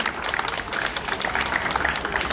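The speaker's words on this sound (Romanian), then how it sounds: "Aplauze, bineînțeles, pentru că merită din plin." An audience at a national folk song festival in Călimănești, Vâlcea, breaks into dense, continuous applause, many hands clapping loudly and evenly throughout.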